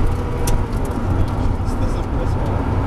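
A Porsche GT3 accelerating down a race-circuit straight gives a loud, steady engine roar that fills the cabin, with a voice heard talking over it.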